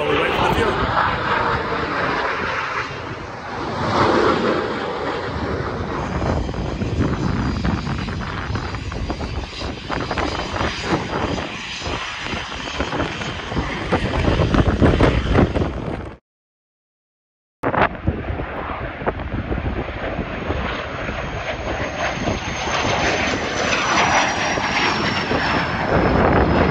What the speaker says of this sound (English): we're just going to enjoy some of the views of some of the aircraft coming and going